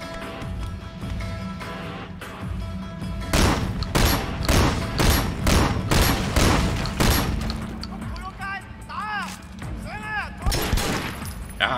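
Gunfire in the video game Sleeping Dogs: dense bursts of rapid shots and loud cracks fill the middle of the scene, surrounded by game sounds and a player's voice talking over the action.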